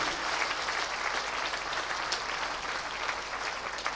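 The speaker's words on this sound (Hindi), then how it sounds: "एक बार अपने हाथ उठाकर और तालियां बजाकर अपना स्वागत कर लीजिए" Sustained clapping from a devotional gathering audience at a chaturmas discourse in Indore, dense and even for several seconds with no voices over it.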